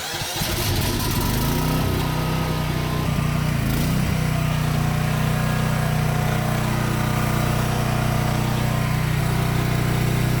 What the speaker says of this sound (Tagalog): So ngayon, i-start natin yung generator.